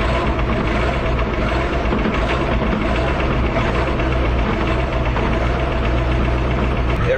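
A Ford diesel truck engine running rough right after a cold start, loud, close and continuous with an uneven knocking idle, no voices over it.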